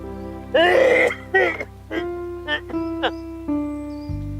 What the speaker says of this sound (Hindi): कितना खांसते हो?